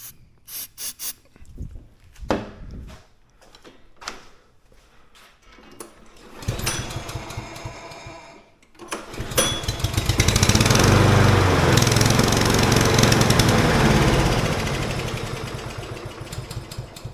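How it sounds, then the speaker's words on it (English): An old small engine that sat for five years sputters through several cranking pulls, then catches on starting fluid and runs loud and rough, a fast steady chatter that slowly eases off. "So it'll run on starting fluid."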